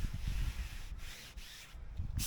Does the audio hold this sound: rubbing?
yes